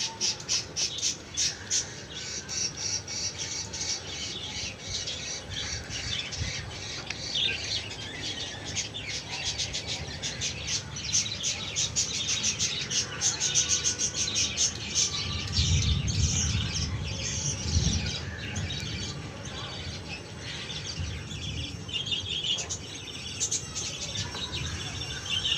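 Ducks quack and squawk repeatedly in the rain on a rooftop, over a steady, hissing background, with a cluster of louder, lower calls partway through.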